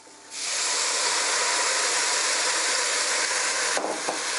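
A sudden loud hiss and sizzle erupts as vegetable stock hits a hot pan on high heat, then holds steady and intense for several seconds.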